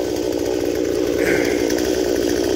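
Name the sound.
18 inch chainsaw cutting a huge oak tree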